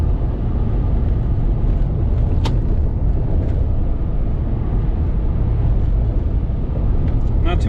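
Steady low road and tire rumble inside a moving 2018 Jeep Wrangler JL Rubicon or Moab, a constant broadband drone with a brief sharp tick partway through.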